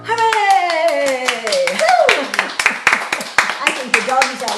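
A small audience at a kitchen concert claps after a song, a few close, distinct hand claps in loose rhythm, mixed with singing and talking voices throughout.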